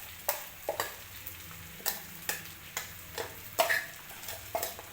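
Stuffed brinjal in spice paste fries in a pan and is stirred, a low simmering sizzle punctuated by regular scraping strokes about every half second, near and moderately quiet, with no speech.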